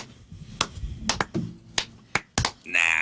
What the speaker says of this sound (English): Get the slow clap going, you guys.